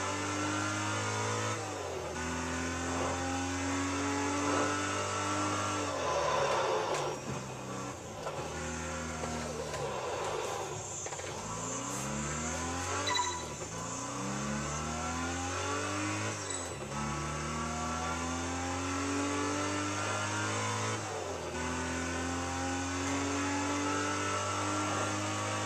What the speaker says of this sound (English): It's a deeper engine sound.